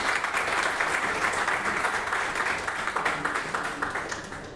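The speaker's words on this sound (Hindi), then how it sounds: "आपकी जोरदार तालियां बजती रहनी चाहिए" Loud, sustained applause from a meeting audience welcoming a speaker at a charitable trust gathering, dense clapping throughout with little talk.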